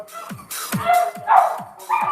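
A dog gives a few short, close barks in quick succession, rising and falling over about two seconds.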